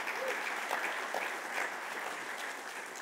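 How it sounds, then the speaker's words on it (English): Soft, steady audience applause at a conference, a continuous wash of clapping heard at a moderate distance throughout. "Please give them a round of applause."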